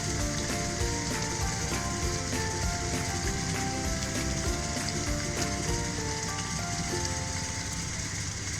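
Cream poured into mutton karahi simmering in a pan on low flame, giving a steady loud sizzle and bubbling fry that runs unbroken throughout with no talking.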